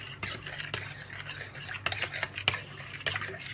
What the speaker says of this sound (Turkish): Dikkatli bir şekilde çırpıyoruz